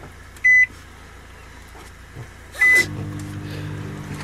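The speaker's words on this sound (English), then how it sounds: "I'm just going to warm it up in the microwave." A microwave oven aboard a boat, warming food, gives two short electronic beeps. A steady low hum then starts and runs on to the end.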